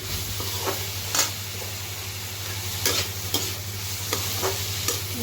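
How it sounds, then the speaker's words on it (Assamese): Cooked rice sizzles steadily in a hot pan while a utensil scrapes and stirs it in several brief, irregular strokes. "মই ভাতখিনি ভাজি দিওঁ"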